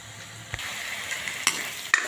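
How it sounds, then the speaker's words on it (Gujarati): Onions, ginger and chillies frying in a pan give a steady close sizzle, with a few sharp spatters and scrapes cutting through. "ડુંગળી, આદુ મરચાં મસ્ત મજાના શેકાઈ જાય છે"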